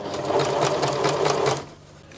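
A sewing machine runs a steady, rapid stitching burst along a dress seam, worked from the inside with a centimetre allowance, loud and close for about a second and a half before stopping.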